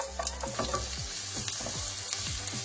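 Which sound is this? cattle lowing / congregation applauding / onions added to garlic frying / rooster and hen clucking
onions added to garlic frying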